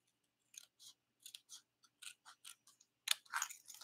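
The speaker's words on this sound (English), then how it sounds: "I'm going to go ahead and do an angle cut here, but where you have nice scissors" Sharp scissors make an angled cut, a quiet series of crisp snips at an uneven pace. A denser flurry of louder cuts comes at the end.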